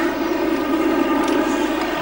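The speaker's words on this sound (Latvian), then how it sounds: "bet skan arī spēles fināla sirēna" The final siren at a KHL ice hockey game between Yugra and Dinamo Riga sounds through the arena. It is a loud, steady, sustained horn-like blare over crowd noise and holds for the whole moment.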